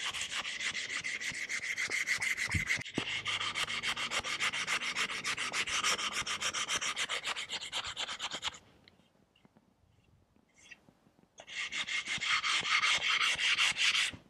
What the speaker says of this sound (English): sanding these parts out here.